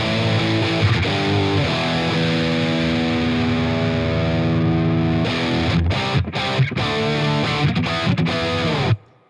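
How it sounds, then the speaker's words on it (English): Electric guitar runs through a J Rockett PXO boost and overdrive pedal on its drive distortion setting, sustained chords ringing loud and thick before several choppy stops and a final abrupt cutoff. "you get kind of your classic, you know, drive distortion sound"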